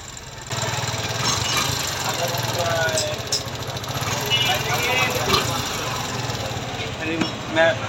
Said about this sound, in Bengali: কিন্তু বাইকটির সাউন্ড শুনলেন